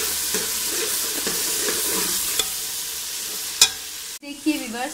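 Masala with softened tomatoes fries and is stirred in a pot, a steady close sizzle broken by scraping stirs and a sharp clack near the end, with no one speaking.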